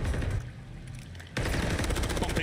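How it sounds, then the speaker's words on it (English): Gunfire rattles in Call of Duty on Rebirth Island, a dense burst of shots that thins to a quieter stretch and then resumes as sustained rapid fire. "Bumping over to the absolute silence, the rattle of gunfire."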